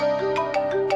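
A mobile phone ringtone plays a bright, repeating electronic melody, loud and close, with rhythmic notes pulsing through the whole second and no voices over it.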